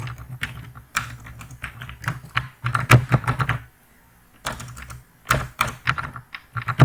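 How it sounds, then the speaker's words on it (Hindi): Rapid keystrokes on a computer keyboard, close and clicky, in bursts with a short pause in the middle before typing resumes. "तो यहाँ पे मैं टाइप करता हूँ"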